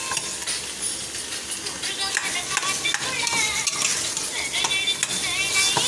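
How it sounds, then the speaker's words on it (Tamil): Vegetables and tomatoes for a vegetable biryani are stirred in a pan, a continuous loud sizzle overlaid with rhythmic scraping strokes of a spoon, heard up close. "நல்லா இப்படி மிக்ஸ் பண்ணணும்."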